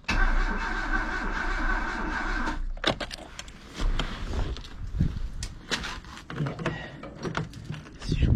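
A Peugeot 309 GR sitting unused for 20 years, the engine running roughly at first, then cutting out before cranking and sputtering again in uneven, loud bursts of mid-pitched revving and knocks, close by with no talk.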